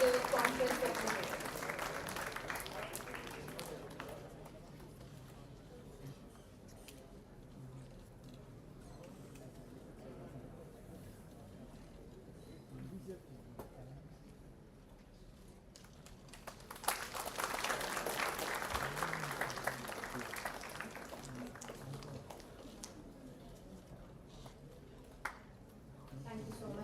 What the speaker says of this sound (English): Let us give a big round of applause as we officially release the conference certificate.